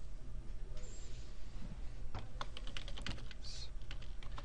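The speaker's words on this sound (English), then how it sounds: "So I'm just going to start typing some words here just so that you can see how you can edit your words." Rapid clicking of keys on a computer keyboard, irregular bursts of keystrokes close up, with no talking.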